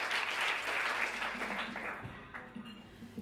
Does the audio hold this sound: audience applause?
yes